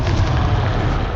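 A Confringo spell explosion in the Hogwarts Legacy video game, a short dense low boom with rumbling noise sustained for about a second, loud and close.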